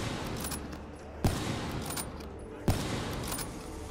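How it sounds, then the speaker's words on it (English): Two sharp sniper rifle shots crack out about a second and a half apart against zombies in Call of Duty Black Ops III, each a loud, sudden report over steady game background noise. "Shoot some zombies with a damn sniper."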